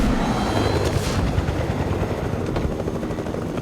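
In the Fortnite Mobile video game, a helicopter flies with a steady, loud rotor drone, and brief faint gunfire pops sound beneath it.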